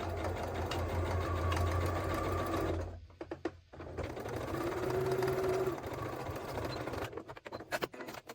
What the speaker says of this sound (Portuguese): Baixar a agulha e vou dar um pequeno retrocesso aqui e já vou começar minha costura aqui